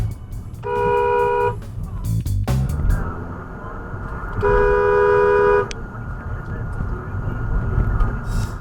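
At an intersection a car horn gives two loud, sustained honks about three seconds apart, over road and engine noise.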